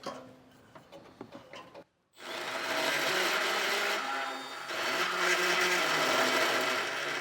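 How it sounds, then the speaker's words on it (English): A power drill with a step bit bores a hole in the frame of a 2025 Mazda CX-30 during a Curt trailer hitch install, a loud continuous whirring grind after some brief handling clicks. "using a step bit also works really good here for making this hole."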